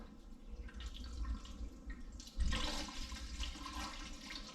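Liquid drips and trickles steadily while diesel fuel is poured into a roughly five-gallon container, with a louder splashing burst midway through, fairly close and without talk.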